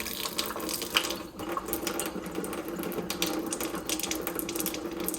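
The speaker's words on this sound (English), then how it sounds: "Now we're going to turn on the faucet, make sure that it works." Water runs from the faucet of a newly installed under-sink filtration system, a quiet steady hiss and splash with a few small clicks and sputters as air clears.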